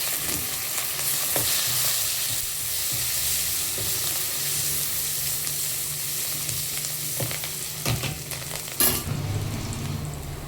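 Washed curry leaves hit hot oil for a Kerala-style pepper beef fry, giving a loud, continuous sizzle with a few sharp crackles and stirring knocks toward the end.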